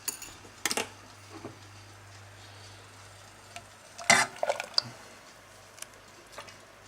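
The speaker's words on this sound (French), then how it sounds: "Et je remue jusqu'à ébullition et liaison." An egg and milk mixture stirred in a saucepan while brought to the boil: quiet, sporadic scrapes and soft clinks of a utensil against the pan, close by, with no talking.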